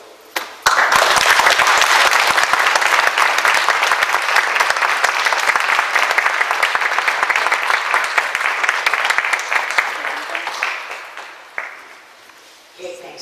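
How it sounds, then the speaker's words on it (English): A women's forum audience breaks into sustained, loud applause that starts abruptly, holds dense and even for about ten seconds, then tapers off into scattered claps. "And we gratefully applaud your life."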